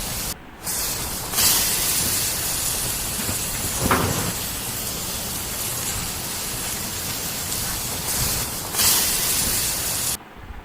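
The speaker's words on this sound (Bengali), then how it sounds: "পুরো আলুটা লাল লাল করে ভেজে নেব আমরা" Potato pieces with salt and turmeric fry in oil in a wok, making a loud, dense, continuous hiss that swells briefly a few times and drops away at the end.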